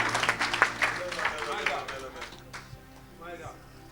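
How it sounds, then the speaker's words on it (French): A church congregation claps and cheers for Jesus, a burst of many hands clapping that is loudest at first and then thins and fades, with voices speaking through it. "Est-ce que tu peux sceller cette parole par tes acclamations?"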